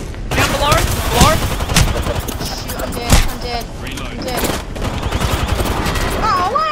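Rapid gunfire in the battle royale game Apex Legends, dense automatic bursts and sharp impacts filling the whole stretch, loud and close, with voices and game effects layered underneath.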